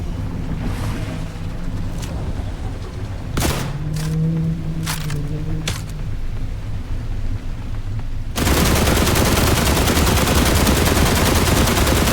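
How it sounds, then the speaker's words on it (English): Gunfire from The Last Caretaker video game, a few sharp shots spaced over a dense, continuous ambient backdrop that gives way to a loud broadband roar near the end. "I've put like I don't know how many bullets into him."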